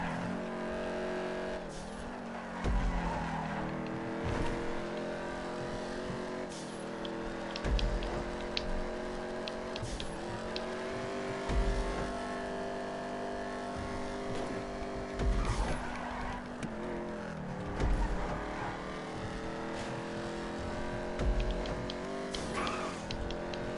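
A car in a racing video game sliding around on dirt tyres: continuous engine drone with shifting pitch, with repeated scrubbing skid noise and crunching bursts over a steady hiss, sustained throughout.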